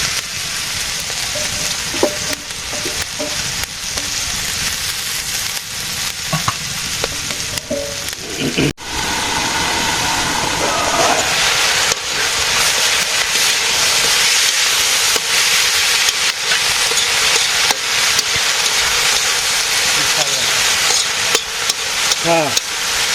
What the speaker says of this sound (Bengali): আলু বেগুন পেঁয়াজ মশলা সবই ভাজি হয়েছে এখন শাক দিয়ে দিচ্ছি